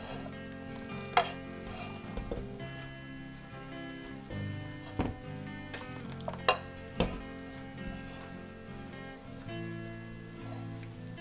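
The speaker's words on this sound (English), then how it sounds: "we're gonna mix these together, being careful not to over mix" Pumpkin bread batter being mixed in a bowl, soft irregular scraping and occasional light clinks of utensil against the bowl, fairly quiet over faint background music, with no voices.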